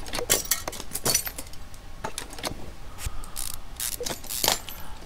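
A wheel is fitted onto a car in Car Mechanic Simulator 2015, a series of sharp metallic clicks and ratcheting clacks at uneven intervals, close and fairly loud with no talking.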